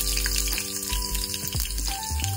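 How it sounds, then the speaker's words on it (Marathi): Sliced onion hits hot oil in a pan, a loud close hiss and crackle of frying layered over a steady low hum, with a few clinks near the end and no voices. "तेल तापलेलं आहे, यामध्ये ऍड करायचा आपल्याला कांदा."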